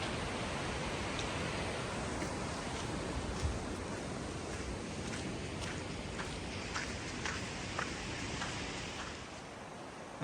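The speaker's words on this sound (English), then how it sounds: "Wow, look at the waterfall." A waterfall along New Zealand's Te Araroa trail gives a steady, broadband roar that fills the whole clip at constant loudness, with no talk over it.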